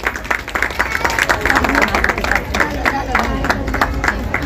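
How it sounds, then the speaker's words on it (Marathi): A crowd claps loudly at a joint community function held by a Hanuman friends' association and a women's association. The applause is dense and sustained, with many hands overlapping throughout and a faint murmur of voices underneath. "टाळ्या जोरदार होऊ द्या"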